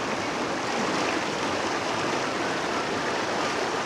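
River water rushing steadily near Minaili Falls in Kulawi, a loud, continuous broadband flow with no pauses and no voices.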